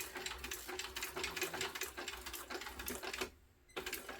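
Sewing machine stitching a backpack, a close, steady rattle of needle strokes that pauses briefly near the end before resuming, with no voices.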